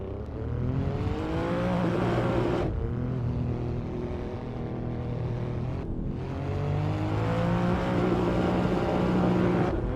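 A car's engine in the Assetto Corsa driving game with a traffic mod revs up steadily through the gears, with two sharp shifts dropping the pitch before it climbs again, loud and close throughout.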